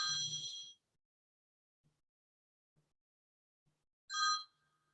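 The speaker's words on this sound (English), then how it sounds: "there was somebody's phone ringing." A phone rings in a quiet room: one short burst of bright electronic ringing at the start and a second burst about four seconds later, with near silence between.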